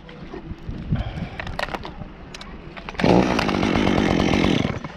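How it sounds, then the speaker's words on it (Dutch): A warm chainsaw idles and sputters briefly, then revs up loudly into a sustained high-pitched buzz as it cuts through tree wood, easing off at the end. "mijn zaag is al een beetje warm, dus we gaan nu gauw afblokken"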